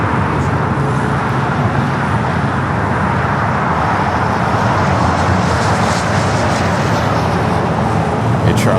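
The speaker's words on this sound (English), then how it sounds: "Next takeoff, a flight to Cancun, Mexico, United Airlines, flight 1278, 737-900 ER with United." A United Airlines Boeing 737-900ER bound for Cancun takes off at LAX, a loud, steady jet engine roar that fills the whole stretch alongside road traffic noise, with no talk.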